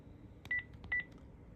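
Two short keypad tones from a Panasonic KX-TG1062 cordless phone, each a steady beep of about a tenth of a second, spaced roughly half a second apart with faint clicks around them, alone and fairly quiet.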